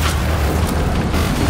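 An explosion in the video game Warhammer 40K: Darktide, a loud continuous booming rumble filling the whole short moment with no clear start or end.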